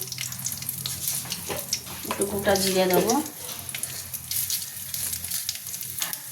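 Whole cumin seeds sizzle in hot oil beside an omelette frying, a steady close hiss with crackles, and a brief clanking scrape midway; no words spoken.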